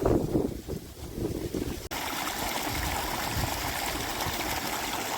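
Steady rushing of running water, broadband and continuous, with a brief click partway through and low rumbling underneath.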